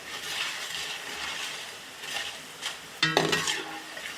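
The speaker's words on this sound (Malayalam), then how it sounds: "അപ്പോൾ നമ്മുടെ ചക്കച്ചുള വറുത്തത് വറന്നു വന്നിട്ടുണ്ട്" Jackfruit bulbs fry in hot oil with a continuous soft sizzle while a utensil stirs them, scraping the pan, followed near the end by a few brighter metallic clinks.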